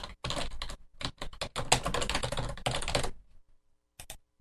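A computer keyboard clatters with quick bursts of keystrokes while an appointment name is typed, dense and close for about three seconds, then a pause and a final short pair of taps.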